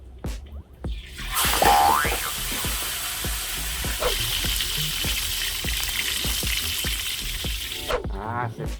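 A whole sea bass drops into hot oil and fries for fish-sauce fried fish, a loud sudden hiss that settles into a steady close sizzle with bubbling crackles, ending with a brief splashy clatter.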